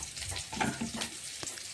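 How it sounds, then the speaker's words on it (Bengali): Onions sizzle in a hot pan while a utensil scrapes and stirs them in a few short strokes, with no one talking. "পেঁয়াজটা একটু নাড়াচাড়া করে দেখে নিচ্ছি ভাজা হয়ে গেছে"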